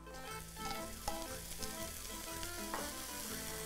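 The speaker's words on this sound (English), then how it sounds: "don't you love the smell of bacon frying?" Diced bacon sizzles and fries in a wok with garlic and cooking spray, a steady close crackling hiss with small pops and stirring clatter throughout.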